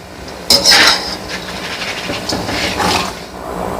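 Fried chana dal is tipped into a pot of Nashik-style Kondaji chivda and stirred, giving several close metallic clinks and scrapes of a spoon against the vessel with rustling in between.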